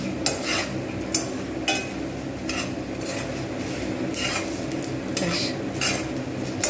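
Masala spices roasting in a pan for a pumpkin-potato chhokka are stirred continuously, a steady scraping rattle with periodic sharper utensil clinks against the pan, close and fairly loud with no voices.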